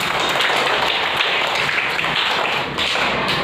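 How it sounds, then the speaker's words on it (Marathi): Schoolchildren clapping together in a classroom, a dense, continuous patter of many hands at steady loudness for several seconds. "टाळ्या वाजा त्याच्यासाठी"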